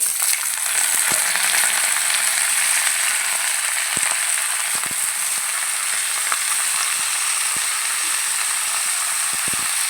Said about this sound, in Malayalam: നമുക്കിത് ചിക്കൻ ഇട്ട് കൊടുക്കാം